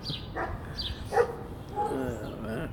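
A dog behind a fence gives a few short, sharp barks at moderate distance, partly masked by steady background noise and a person talking.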